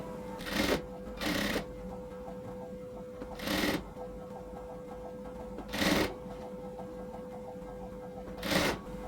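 A domestic sewing machine stitches piping around a garment neckline in five short, loud bursts of rapid whirring, separated by pauses with a steady low hum and faint handling in between.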